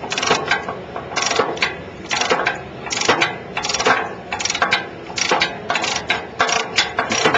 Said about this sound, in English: All that I'm going to do is just turn this ratchet.